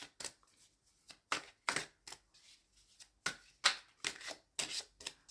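A deck of tarot cards being shuffled by hand, a series of about a dozen crisp riffling snaps and slaps in an uneven rhythm, close and clear with no talking.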